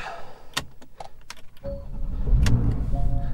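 A 2018 Porsche 911 Carrera starts up with a push-to-start twist ignition: after faint clicks and rustling, the engine catches around halfway through and settles into a loud, steady low rumble of idle.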